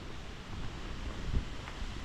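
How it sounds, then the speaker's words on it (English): Outdoor wind buffets a handheld camera microphone as a steady low rumble with small gusts, heard alone and without talking. "It's a bit windy, guys."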